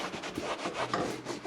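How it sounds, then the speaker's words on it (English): Leather motorcycle jacket being scrubbed with cleaner, a soft continuous rubbing and brushing with quick back-and-forth strokes, close and fairly quiet. "cleaner to the leather, giving it a nice scrub"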